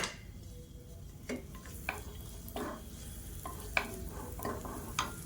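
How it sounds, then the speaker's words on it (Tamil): Asafoetida pieces sizzling in hot oil in a kadai, a soft steady frying hiss with several sharp pops and crackles spaced through it, close but fairly quiet. "எண்ணெய் சூடானதும் 3 துண்டு பெருங்காயம் சேர்த்துக்கலாம்."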